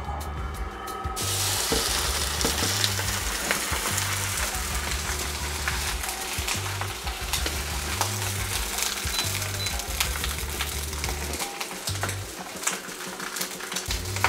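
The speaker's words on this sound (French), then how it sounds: "Et puis on va le mettre sur une plaque pour qu'il prenne de la couleur." Leg of lamb searing on a hot plate, a dense, even sizzle that hisses loudly and without a break throughout, with no talk over it.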